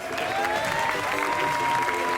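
A live stage show audience in Martigues claps steadily for guests, a continuous, moderately loud wash of applause with tonal sounds and voices faintly underneath.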